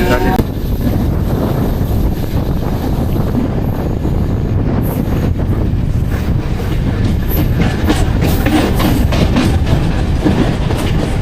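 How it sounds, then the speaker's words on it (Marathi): Train departing during monsoon rain, heard from onboard as a loud continuous rumble with clattering wheels and rushing wind noise, steady throughout. "फायनली आता आपली ट्रेन निघाली"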